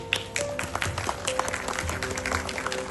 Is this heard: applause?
yes